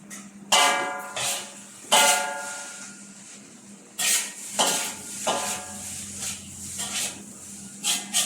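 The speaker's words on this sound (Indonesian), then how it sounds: "dan goreng-goreng dah" Fried rice (nasi goreng) being stir-fried in a pan for a weekend breakfast: a series of loud metallic scrapes and clanks from the utensil on the pan, coming in bursts over a steady low background, with no talking.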